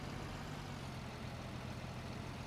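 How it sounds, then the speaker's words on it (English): A tractor fitted with snow chains strains for grip in snow in the Ski Region Simulator game, giving a steady low engine drone that stays even and fairly faint with no speech over it. "So my tractor's struggling to actually get any grip"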